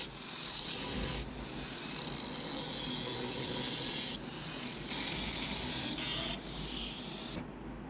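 A switch opening is cut into a plastic body for a project built around a toy car motor. The cutting is a faint, steady rasping and scraping that runs continuously with a few brief breaks.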